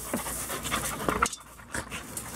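Two dogs wrestling playfully, panting hard in quick, uneven breaths with a few sharp rasps, close by and loud, with a short quieter gap in the middle and no one talking.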